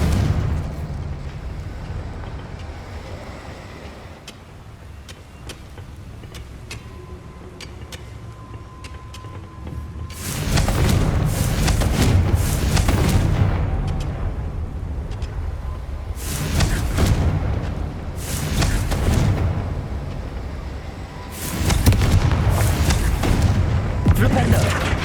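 Confringo blast spell explosions in Hogwarts Legacy, several loud booming bursts with rumbling tails separated by quieter gaps, alongside game ambience and a speaking voice.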